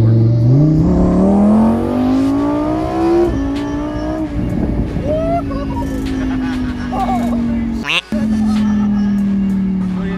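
A 2020 Lamborghini Huracan EVO Spyder RWD accelerates hard from the floor, its engine note climbing steadily through the gears with a brief gap at a shift, loud and close from inside the cabin.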